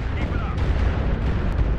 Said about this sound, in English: I dropped an artillery strike.